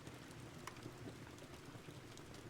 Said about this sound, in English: The gentle sound of the rain creating a soothing backdrop.